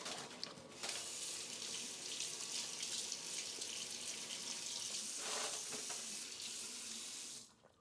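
A toilet flushes up close, a steady loud rush of water lasting about seven seconds before cutting off abruptly, with no voices.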